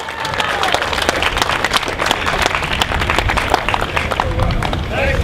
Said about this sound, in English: a round of applause for Omar Ahern.